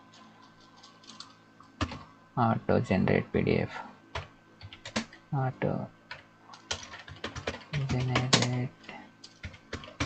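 A computer keyboard is typed on to enter a board name in AppSheet, producing clusters of crisp, close keystrokes that alternate with someone speaking Hindi.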